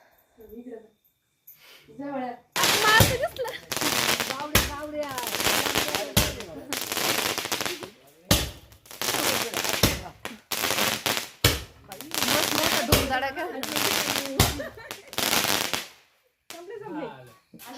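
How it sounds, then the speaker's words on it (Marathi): Firecrackers burst outdoors at a birthday celebration in rapid crackling volleys, loud and sharp, repeating in bursts for several seconds with short pauses between, voices heard at the start and end. "आता आहे ना बाहेर फटाके फोडतोय आम्ही"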